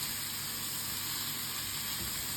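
Fresh minced meat sizzles steadily in a hot pan while being stirred for a meat pie filling, a dense continuous hiss with no talking.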